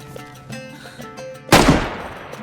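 A gunshot goes off in the survival video game DayZ, one loud sharp blast with a decaying tail that breaks through quieter game ambience and faint tones.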